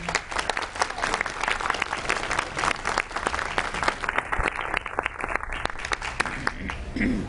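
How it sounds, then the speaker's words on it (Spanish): An audience applauds steadily at a book presentation in Lima, a dense, even patter of many hands lasting several seconds at moderate volume, with some voices mixed in. "Por favor, un aplauso para ella."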